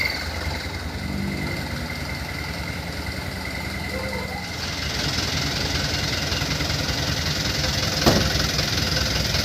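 A motorbike engine idles through a Takalar-style cung exhaust, a steady, loud, rough-edged drone that thickens in the second half. A brief sharp burst cuts in near the end, and no one speaks over it.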